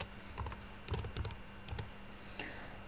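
Brief bursts of typing on a computer keyboard, quick clustered key clicks heard up close over a steady background hiss, with short pauses between keystrokes and no speech.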